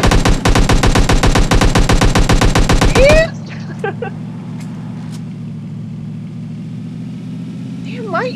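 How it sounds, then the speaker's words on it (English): Rapid automatic gunfire from the mobile battle royale game PUBG Mobile rattles loud and close for about three seconds, then stops abruptly, leaving a steady vehicle engine hum with a few faint distant shots and game sounds. "is there somebody else shooting at us? He's getting shot at."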